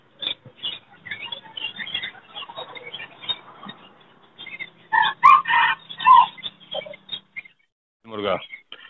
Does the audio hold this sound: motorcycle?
no